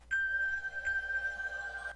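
A single flat note held steadily on a keyboard, a pure, sustained tone with a soft onset and a faint slight swell partway through, played alone without talk.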